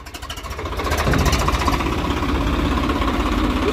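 A Swaraj 855 tractor's diesel engine idles steadily close by, a low rumbling chug with a slight rise in level after the first second, no voices.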